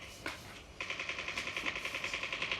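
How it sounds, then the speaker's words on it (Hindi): Rapid automatic gunfire in a video game, a steady run of sharp evenly spaced shots after a brief single report, loud and close with no talk over it. "लेकिन तभी साइड से फायरिंग आती है"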